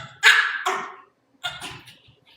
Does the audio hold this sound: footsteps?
no